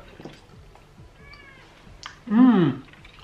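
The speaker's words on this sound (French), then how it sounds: "Il y a le chat qui s'incruste." A cat meows once, a fairly loud, drawn-out call that rises and falls, close by in a quiet room during a chocolate tasting at home, with faint background sounds before it.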